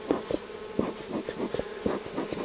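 Honeybees from a caught swarm buzz close and loud around a hive box of drawn comb, their hum rising and falling in short, overlapping passes with no talk.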